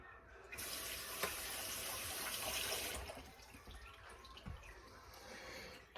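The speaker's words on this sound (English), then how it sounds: "now I'm going to rinse my hands" Water runs from a kitchen tap as hands are rinsed under it, a steady close splashing rush that starts abruptly, shifts in tone partway through and carries on without speech.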